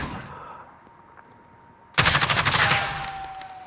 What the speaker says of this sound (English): Damn, there's somebody shooting.